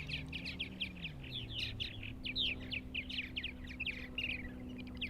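Purple martins chirping at a colony on eastern Long Island, a busy run of quick, overlapping twittering calls, fairly close, with a low steady hum underneath.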